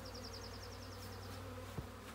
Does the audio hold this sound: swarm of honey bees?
yes